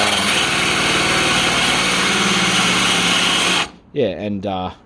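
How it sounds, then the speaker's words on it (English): A high-pitched power drill whines steadily as a nylon stripping wheel grinds against a 1978 Millard caravan roof, then cuts off and someone speaks briefly. "just go along with the nylon wheel in the drill"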